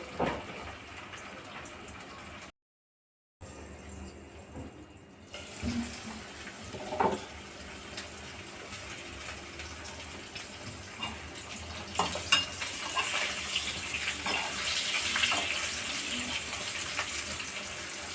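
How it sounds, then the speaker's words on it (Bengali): Green bananas fry in hot oil for a hilsa curry, giving a steady broadband hiss and crackle that briefly drops out, then swells louder and denser toward the end, with no voices. "কাঁচকলাগুলোকে সুন্দর করে ভেজে নেব"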